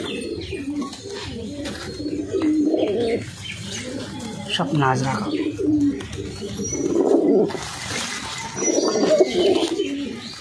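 Giribaz pigeons coo in soft, repeated throaty calls at a home loft, steady and fairly close, with people talking over them throughout.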